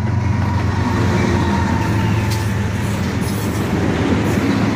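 CSX freight train led by an ES44DC and an older Dash 8 locomotive, a loud, continuous rumble and roar of passing rail cars close by, with no pauses.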